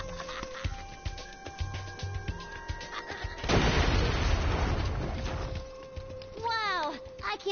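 A burst of explosion noise erupts mid-scene in the video game Spyro Year of the Dragon, a loud noisy blast lasting a couple of seconds amid game sound effects and chirpy creature cries.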